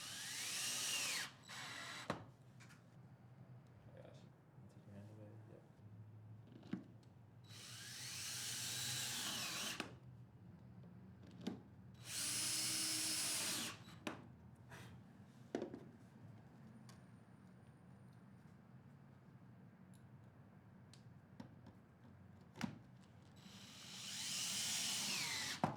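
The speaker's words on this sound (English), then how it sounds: "install 1 1/4 Robertson wood screws into the wood stiffeners using your power drill and Robertson drill bit" A power drill with a Robertson bit drives 1 1/4-inch Robertson wood screws into wood stiffeners on a horizontal Murphy bed frame, whining in several short bursts separated by quiet pauses and small clicks.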